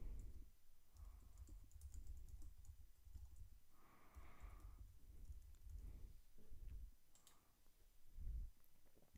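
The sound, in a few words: typing an email address on a computer keyboard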